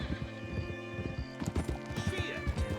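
In Red Dead Redemption 2, a horse's hooves clop in a quick, rhythmic beat close by, followed by a loud neigh and snorting, with a faint voice underneath.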